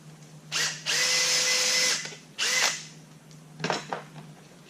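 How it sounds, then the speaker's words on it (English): A power drill whines through aluminum while holes are made for a homemade GoPro shoulder mount, one long burst and two shorter ones, close and loud, with a brief rattle after. "After we drill that one."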